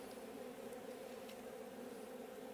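Honey bees buzzing on a hive frame, a steady, close, droning hum with no pauses, fairly quiet and with no talk.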